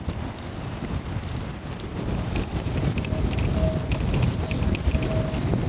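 Wind gusts outdoors at a fish cookout, a broad rushing roar buffeting the microphone and building louder over the seconds, with faint higher tones whistling through.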